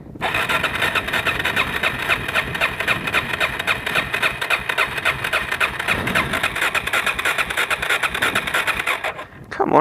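A new motorbike engine cranks and catches, then runs at a steady, loud idle for several seconds before cutting out near the end.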